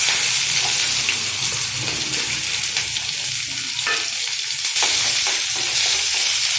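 Onion, garlic, green chili and cumin sauté in a hot pan for green dhal, a continuous close sizzle broken by scraping stirs and occasional sharper crackles, with no talk.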